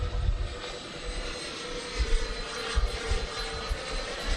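A small RC jet plane takes off with a steady, broad engine roar that rises and falls slightly, heard from nearby with wind buffeting and no talking.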